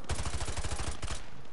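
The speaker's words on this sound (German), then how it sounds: "Und ein paar Kugeln in den Kopf schicke ich auch gleich mit." Automatic rifle fire from the Call of Duty Modern Warfare 2 campaign: a rapid, evenly spaced burst of about a dozen loud shots that stops abruptly.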